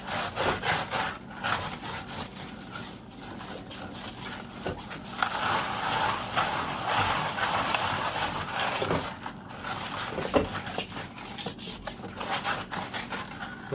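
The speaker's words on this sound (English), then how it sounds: "So I'm holding a few rocks in my hand and using that as a scouring pad." Soapy wet rocks held in a hand are scrubbed in circles as a scouring pad, a steady close gritty rubbing and grinding that runs continuously with rhythmic strokes and no talking.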